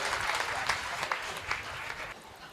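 An audience at a Hindi kavi sammelan poetry gathering applauds to welcome poet Sanjay Jhala: steady, dense clapping from a large crowd, continuous throughout and fading slightly at the end.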